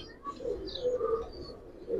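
Two silver pigeons give low, repeated coos at close range, moderately quiet, the warbling phrases running steadily with a slight swell toward the end.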